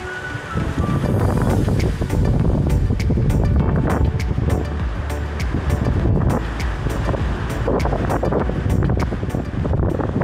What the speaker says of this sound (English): We had around 22 knots of wind and then it dropped down during seconds down to 3 knots.